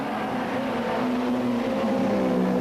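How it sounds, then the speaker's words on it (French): Steady, dense engine roar of rallycross cars, including a Mercedes, racing at the 1986 European Rallycross Championship, continuous and fairly loud throughout with no voices. "Dans cette épreuve, Watson, au volant de sa lourde Mercedes, fait de son mieux sur ce circuit cohuteux."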